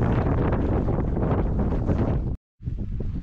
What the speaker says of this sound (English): wind coming over here is so extreme